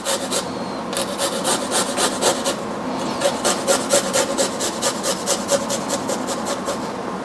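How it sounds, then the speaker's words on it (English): A small garlic clove is rubbed quickly back and forth across a microplane grater, giving close, rhythmic rasping strokes in steady bursts with a brief pause near the start and no talking. "Grate or slice a small clove of garlic finely. I use a microplane grater"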